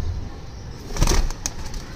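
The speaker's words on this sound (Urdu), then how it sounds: "زور بڑے لگا رہے، بڑے پرتیلے کبوتر ہے یار، ہاتھ میں نہیں آ رہے" A Rampuri pigeon held in the hand beats its wings in a brief, close flutter around the middle of the moment, over a low background rumble.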